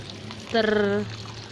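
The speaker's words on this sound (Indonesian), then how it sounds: "Sekarang waktunya kita siram. Ini siram di bawah." Water poured at the base of a long bean seedling in a planter bag gives a single short, ringing splash lasting about half a second over a quiet background.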